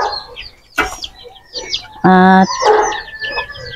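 A brooding hen on a farm after a super typhoon gives a loud, brief clucking call midway, with other bird sounds and someone talking around it.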